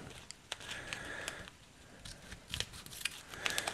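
Scissors snip and rasp through a sealed plastic bag from a vape tank's packaging close by, a few sharp cuts separated by brief rustling pauses.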